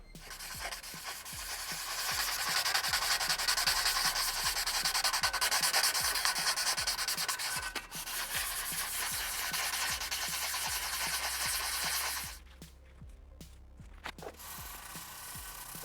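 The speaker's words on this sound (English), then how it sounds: "So one of the keys to sanding metal is really to take your time with it." A metal BMW G310R motorcycle exhaust is hand-sanded to remove crash scratches, with rhythmic back-and-forth rasping strokes close up, pausing briefly and ending in quieter rubbing.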